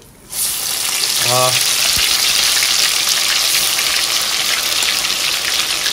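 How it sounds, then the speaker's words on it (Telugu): Ginger garlic paste drops into hot oil left from frying chicken for pickle, bursting into a loud, dense, rain-like sizzle that holds steady after a quiet start, with a brief tonal chirp and a knock early on. "ఇప్పుడు చికెన్ ఎందులోనైతే మనం ఫ్రై చేసామో అదే హీట్ ఆయిల్ లోని అల్లం వెల్లుల్లి పేస్ట్ యాడ్ చేసేసుకోవాలి"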